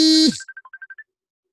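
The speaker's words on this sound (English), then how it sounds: "That's a pretty aggressive ringtone." A short electronic phone ringtone cuts in right after a loud burst, then plays a quick run of about eight beeping tones, one dipping lower, before stopping abruptly.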